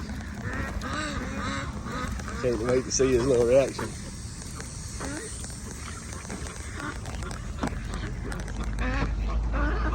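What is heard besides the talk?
ducks quacking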